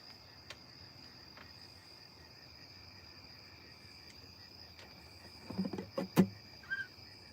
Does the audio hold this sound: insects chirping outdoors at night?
yes